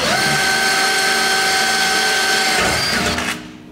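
A 2.5mm pilot drill bores through aluminium boat parts, a steady loud whining grind with sustained tonal harmonics lasting about three seconds before tapering off as the bit breaks through.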